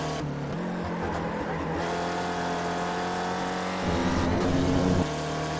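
A sim-racing video game race car engine drones at high revs throughout, heard from a rear-facing gearbox camera at Sonoma, its pitch rising and shifting, with a stretch of squealing tires near the end.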